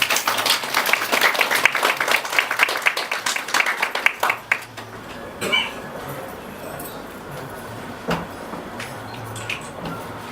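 Wedding guests at a ceremony applaud in a lively burst of close hand claps that thins out after several seconds into sparse claps and quiet room noise.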